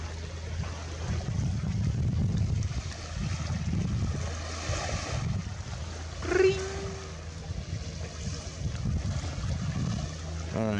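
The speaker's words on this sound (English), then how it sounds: "I think that's just a boat out there." A boat out on open water, heard as a low, far-off rumbling drone that swells and fades over steady wind and surf, with a brief higher tone rising near the middle.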